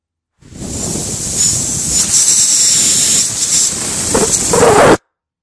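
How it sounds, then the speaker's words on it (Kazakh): A deflating balloon gives a steady hissing rush of escaping air, loud and continuous for several seconds, swelling slightly near the end before cutting off abruptly. "Шар қалай ұшып түседі?"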